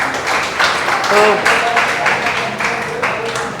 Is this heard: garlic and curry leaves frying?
no